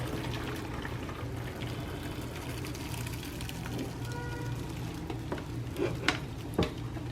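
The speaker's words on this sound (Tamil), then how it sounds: "இந்த தண்ணியை வடிச்சிருவோம்." Water is drained off parboiled rice in a kitchen while making chicken dum biryani, giving a steady rushing, sizzling wash of liquid that runs continuously, with a few louder splashes and clatters near the end.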